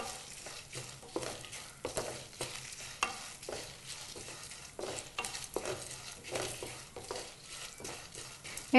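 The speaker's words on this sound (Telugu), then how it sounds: "ఎండుమిర్చి ఫ్రై అవుతున్నాయి కదా." Dried red chillies frying in oil with ivy gourds nearby, a continuous soft sizzle under repeated rhythmic stirring and scraping strokes against the pan, close and fairly quiet.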